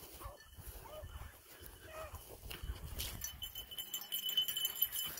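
A pack of eight beagles bays and yelps at a distance in uneven bursts while running a rabbit, with rustling movement and outdoor noise between calls.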